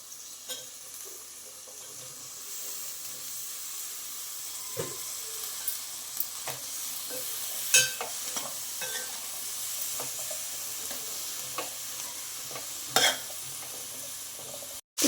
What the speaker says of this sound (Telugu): దీంట్లోకి ఇప్పుడు దొండకాయలను వేసుకోండి.